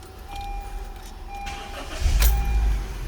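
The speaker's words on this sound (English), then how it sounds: "I'm gonna start the car now." A 2012-2015 Honda Civic engine cranks and fires up after an oil change, a close starter whir followed by a loud low catch and settling idle rumble, with no talk.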